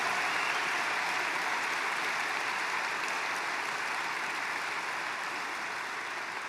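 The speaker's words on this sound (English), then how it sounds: "Let's give them a really special hand." An audience at a live event claps in one sustained, even wall of applause, fairly distant and without pauses, slowly easing off toward the end.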